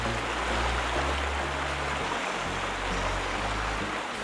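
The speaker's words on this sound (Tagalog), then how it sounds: "tambay muna rito sa man-made waterfalls at damhin ang lagaslas ng tubig" Water splashes down a man-made waterfall at a spring resort as a dense, continuous rushing wash. It is close and even from start to finish, with no talking.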